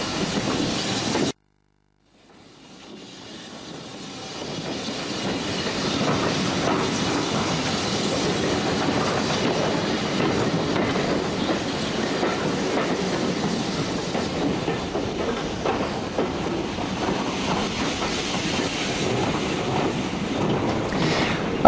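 Steam locomotive Leander runs northbound on the East Lancashire Railway toward Ramsbottom, a brief silence giving way to a loud, sustained rumble of wheels and carriages with rhythmic clickety-clack and wind buffeting the microphone.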